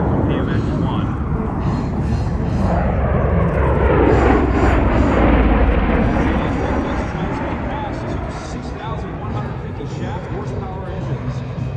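A USMC MV-22 Osprey tiltrotor makes a high-speed pass at an airshow, its loud rotor and engine roar swelling to a peak at mid-clip and then easing off while staying strong, with a public-address voice speaking over the noise.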